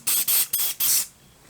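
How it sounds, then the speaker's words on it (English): An aerosol can of CA glue accelerator nearly out of spray hisses in four quick close bursts, the last one longest, then fades to quiet. "as that spray evaporates, it cures the super glue, CA glue, whatever glue"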